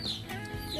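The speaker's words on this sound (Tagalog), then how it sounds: "Mga manok." Backyard chickens near a pig pen make brief clucking and squawking calls over low farmyard background noise.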